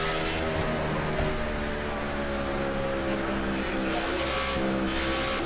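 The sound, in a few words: race car engine in the video game NASCAR '15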